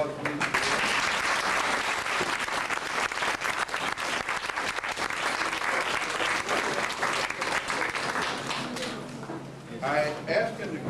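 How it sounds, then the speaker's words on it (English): A crowd applauds Brother Kiva King at a lecture, with loud, dense clapping sustained for about ten seconds before it thins into scattered claps near the end. "hopefully you'll give him a round of applause, please."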